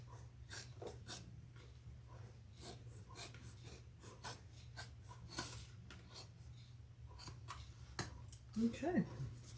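Scissors trimming the sides of a leather and vinyl crossbody bag, quiet repeated snipping and rasping cuts at close range over a steady low hum, with a voice briefly speaking near the end.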